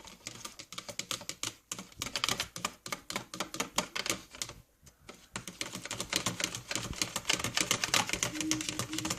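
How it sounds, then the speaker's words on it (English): Matcha tea is whisked briskly with water, making a rapid, dense scratchy patter that runs almost continuously, pauses briefly midway, then picks up again, fairly close and with no talk over it. "I whisk it till it's froth on the top there"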